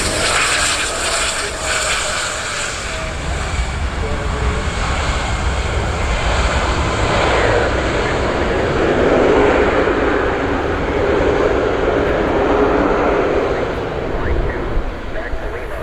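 Falcon business jet at an airport seen by plane spotters in Cleveland, a loud sustained engine roar that swells gently and stays steady throughout.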